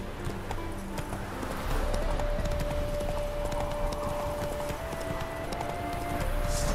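Geralt's horse Roach gallops through trees in The Witcher 3, steady rapid hoofbeats running continuously at a moderate, close level beneath a faint sustained tone and ambient background.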